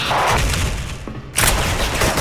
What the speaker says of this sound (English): Nice nade.